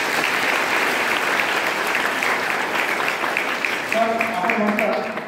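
Sustained crowd applause fills a college convocation ceremony hall, dense and steady throughout, with a few tonal sounds like a voice or instrument briefly rising near the end.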